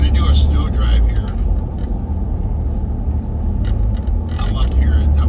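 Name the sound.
car driving on snowy highway 38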